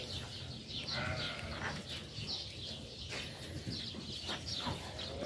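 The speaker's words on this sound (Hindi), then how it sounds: "यहाँ पर जो है ना वो बकरियाँ और बकरियों के जो है ना वो बच्चे हैं" Goats and young goat kids bleating on a farm where lambs are also raised, several overlapping calls repeating across the whole stretch against steady barnyard background noise.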